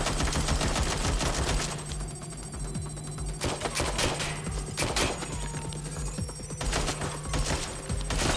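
Gunfire in the video game Watch Dogs Legion, sustained rapid automatic bursts crackling continuously and loudly over several seconds, with a few heavier shots standing out.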